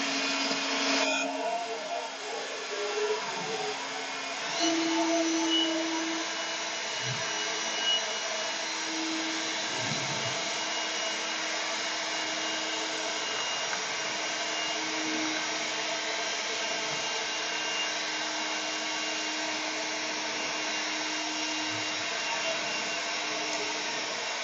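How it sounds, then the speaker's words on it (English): An EGO 765 CFM cordless leaf blower blasts gravel and dirt, a steady loud whooshing roar that holds without a break for the whole stretch, with light gritty debris noise under it. "So let's see what we can stir up here."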